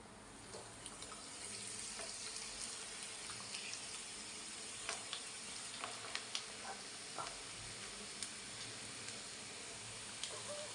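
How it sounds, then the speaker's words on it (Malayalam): Onion vadas fry in hot, bubbling oil, giving a steady, soft sizzle with scattered small pops and crackles throughout. "അന്നേരം നമ്മളുടെ എണ്ണ നല്ല കണക്ക് തിളച്ച് വരുന്നുണ്ട്."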